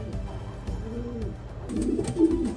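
Champion racing pigeons cooing softly in a loft, low throaty coos repeating close by with light rustling.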